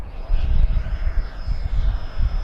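An HSD Banana Hobby Viper Jet 75mm electric ducted-fan RC jet on a 6s setup making an inverted pass down the center line, a surging whoosh and roar that swells and fades as it passes, fairly loud with no talk.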